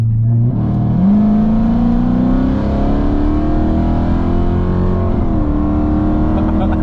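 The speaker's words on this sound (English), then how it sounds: "She actually hit the gas this time." A car with aftermarket wheels accelerates hard with traction control partly on, its engine droning loudly and rising steadily in pitch for several seconds, then shifting once and continuing.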